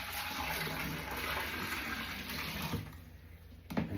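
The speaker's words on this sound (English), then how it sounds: "Put some of this washing up water out of the bowl in there." Washing-up water tipped from a bowl into a kitchen sink, a steady close pour and splash that stops abruptly near the end, followed by a faint clunk.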